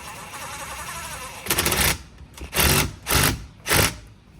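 An impact wrench drives long bolts during a vehicle interior install. After a low background hum, it fires in four loud, close rattling bursts, each about half a second long, separated by short pauses.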